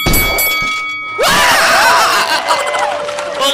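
A pistol shot in the game Kill It With Fire hits an object with a loud thunk and breaking, shattering debris. Clattering pieces and ringing tones follow for several seconds, heard alone up close.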